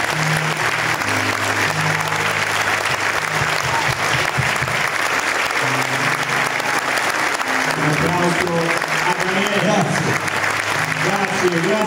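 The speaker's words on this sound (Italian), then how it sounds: "Facciamo un applauso vero." Sustained applause from a concert audience for an orchestra at a Santa Cecilia concert, a dense, even wash of clapping lasting throughout, with someone speaking over it and brief tonal sounds beneath.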